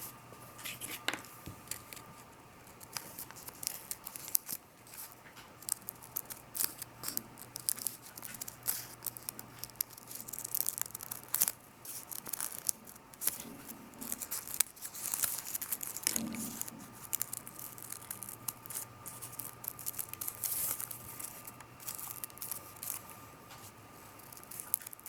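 Scissors snipping through folded paper, with soft crinkling and rustling as the sheet is handled and refolded; quiet, close, intermittent cuts spread across the span with no speech.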